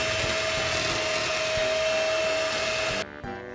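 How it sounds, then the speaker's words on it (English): Electric hand mixer whirring steadily while beating Christmas cookie dough in a bowl, a loud continuous motor drone with a high whine, cutting off abruptly near the end. "And then we will keep on mixing"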